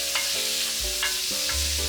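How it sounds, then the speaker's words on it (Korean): Bite-sized pieces of pork neck are stir-fried in perilla oil in a hot pan, with a bright steady sizzle broken by a few spatula scrapes and knocks, close and without talk. "먼저 달궈진 팬에 들기름 2스푼을 넣고 한입 크기 고기를 넣어 볶아줍니다."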